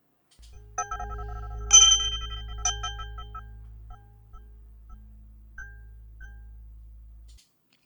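Synthetic tones from a linear filter bank process in SoundThread, a ringing, bell-like chime of stacked pitched partials over a low drone, swelling and decaying through several soft pulses before cutting off.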